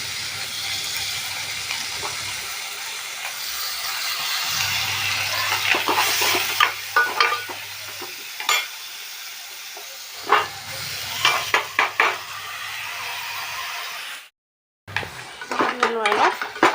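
Rice fried and stirred in a pan with bay leaf, with a low sizzle under repeated clinks and scrapes of a metal spoon against the pot, broken by brief pauses.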